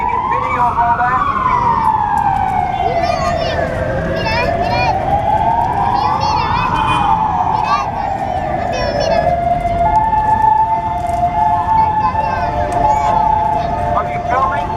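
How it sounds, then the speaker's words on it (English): A loud ambulance siren wails close by in slow, rising and falling sweeps, then settles into a steadier tone as it passes, with voices talking underneath. "Yeah, ambulance."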